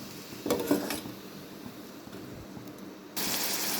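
Garlic, onion and dried chili drop into hot tempering oil for khichuri, giving a close, crackling sizzle that bursts loudly at first and then settles into a steady fry, with a few utensil clinks and no talking.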